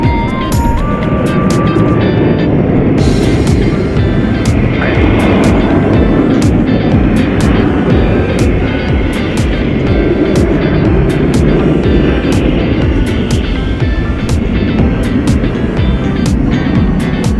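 An American Airlines jet airliner takes off at DFW Airport with a loud, sustained engine roar that holds steady throughout. Faint radio chatter and clicks sit under the noise.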